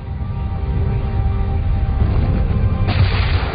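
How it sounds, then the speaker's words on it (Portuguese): A colossal supernova explosion effect, the star blown apart after its iron core collapses: a sustained deep rumbling roar that swells steadily, with a brighter crackling burst near the end. "The collapse of the iron core blows apart the rest of the star in a colossal explosion."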